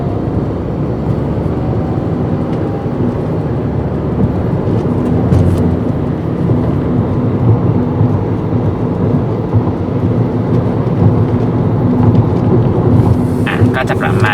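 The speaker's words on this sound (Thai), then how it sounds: "เราจะขับขี่โดยความเร็วประมาณ 90กิโลเมตรต่อชั่วโมงนะครับ" A car cruising at about 90 km/h on Maxxis Pro R1 tires gives a loud, constant road and tire roar with deep engine rumble, unbroken from start to finish.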